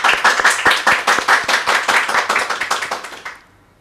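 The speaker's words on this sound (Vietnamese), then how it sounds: "Và chúng ta hân hoan chúc mừng các bà, các chị một tràng pháo tay." A church congregation gives a burst of hand clapping at a weekday Lenten Mass, dense and fairly close, holding steady for about three seconds before cutting off into near silence.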